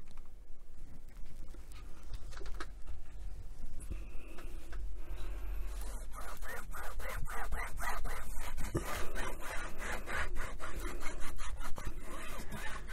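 Leather wipes rubbed across the leather case of a Roberts RIC1 radio, a soft, close scrubbing and rasping that turns into quicker repeated strokes in the second half, with no talk.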